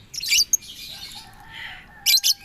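A lovebird chirps close by in sharp, high bursts, a quick trio at the start and another pair at the end, with softer whistled notes between them and no talk.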